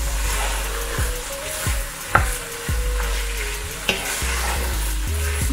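Soy sauce stir-fry sizzling steadily in a pan while being stirred, with repeated scraping strokes of the utensil and a few sharper clinks, close and loud with no talking.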